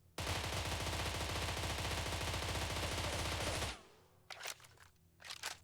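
A Spectre M4 rifle with a 50-round magazine fires a continuous fast automatic burst for about three and a half seconds in a video game. It ends abruptly, followed by a few sharp mechanical clacks; no talking.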